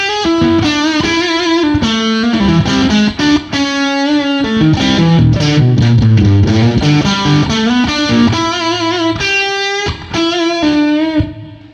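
An electric guitar plays through a modded Boss Blues Driver BD-2 distortion pedal with swapped resistors for less distortion and compression, giving loud, bright, crunchy riffs and sustained chords that play continuously and alone.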